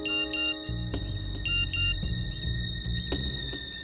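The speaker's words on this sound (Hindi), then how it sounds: "फोन बजा।" A phone rings with repeated electronic tone bursts in a steady pattern over background music in a tense TV drama scene.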